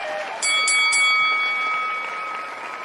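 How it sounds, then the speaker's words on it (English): A bell sound effect rings out brightly, with a quick trio of clear metallic strikes followed by a sustained, slowly fading ring. "Ring the bell."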